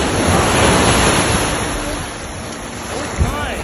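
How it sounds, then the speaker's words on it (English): Ocean surf breaking on the beach at Destin, a broad steady wash of waves and wind noise that fills the clip, easing slightly toward the end with a brief bump near the close. "The waves here are nice."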